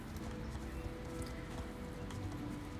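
Horse hooves galloping in Star Stable Online, a steady dense clip-clop running evenly throughout at moderate level with game ambience, no talking.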